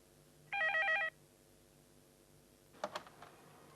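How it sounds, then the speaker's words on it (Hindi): An office telephone gives one short trilling ring, loud and close, followed by a few soft clicks and taps as the handset is picked up. "सावी, केटी का फोन।"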